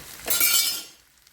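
A lid set down over a pan of matar paneer (pea and paneer curry) on the stove gives one bright, close clatter that rings briefly and then fades into quiet, with no voices.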